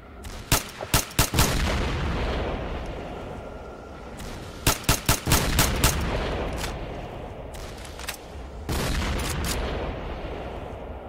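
Bursts of rapid gunfire in STALKER: Shadow of Chernobyl, several quick volleys of sharp shots separated by pauses, loud and close over a low rumbling background.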